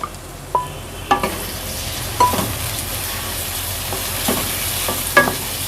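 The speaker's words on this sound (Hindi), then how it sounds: "टमाटर को तब तक हम इसमें फ्राई करेंगे जब तक ये सॉफ्ट ना हो जाए।" Tomatoes fry in ghee with garlic over raised heat, giving a steady sizzle punctuated by several sharp spoon knocks against the pan as they are stirred; no one speaks.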